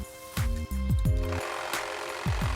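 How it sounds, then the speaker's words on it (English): A powered hedge trimmer cutting a clump of native grass off at its base, close and loud with a buzzing motor whine that repeatedly bogs and surges in short bursts as the blades chew through the tufts. "I'm using a hedge trimmer to cut this off at the base"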